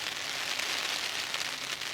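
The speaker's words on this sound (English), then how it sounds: "it's hammering down with rain and quite windy" Heavy rain hammers down steadily in windy weather beside a flooded river at Nunmonkton in September, a dense, continuous, loud hiss of drops with no voices.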